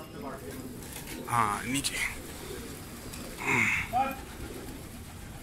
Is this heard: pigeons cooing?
yes